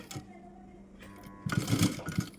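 A sewing machine stitches a blouse cross belt onto the main front piece, a steady mechanical whir that starts low and turns louder and busier partway through, running on its own without talk.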